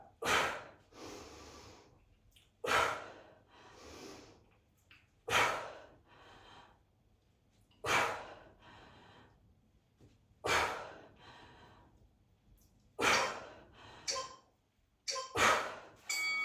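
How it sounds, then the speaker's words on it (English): Heavy breaths accompany kettlebell lifts, strong forceful exhales followed by softer inhales repeating in a steady rhythm of about one lift every two to three seconds, close and clear in a quiet room. "Exhale on the lift. Inhale on the lower."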